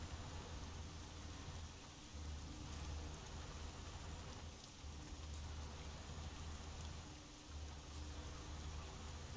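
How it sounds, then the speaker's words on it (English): Steady rain in Euro Truck Simulator 2, a continuous even hiss of falling drops with a low rumbling drone underneath, moderately loud and unbroken throughout, with no voices. "Are we just really overcast, or is it raining?"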